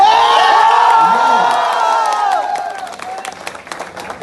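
Loud crowd applause with cheering and whoops at a state armwrestling championship in Delhi, a dense wash of clapping that gradually thins out toward the end.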